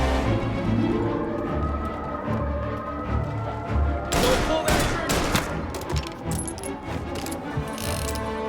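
Gunfire in the video game Mafia Definitive Edition: a steady background of game noise breaks into a rapid cluster of loud, sharp shots and crashes in the second half.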